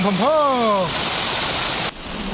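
Cascading waterfalls at Darjeeling Rock Garden roar as a loud, steady rush of water; a voice rises briefly at the start, and the sound drops abruptly near the end.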